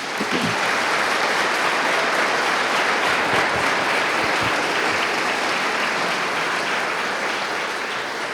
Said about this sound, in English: Would you please join me in a round of applause for all of our special guests?